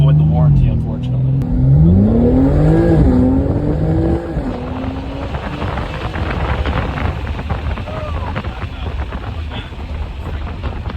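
A car engine of about 800 horsepower revs hard and rises in pitch, loud and close, at an outdoor car show, then drops to a rough steady rumble with wind buffeting the microphone.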